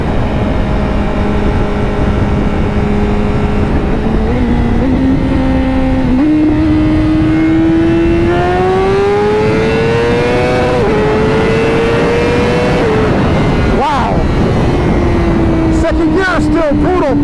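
Honda CBR 1000RR-R Fireblade motorcycle accelerating hard at speed in fifth gear with modified gearing, a loud close engine note rising steadily in pitch through the gear, with wind roar and a brief shift near the end.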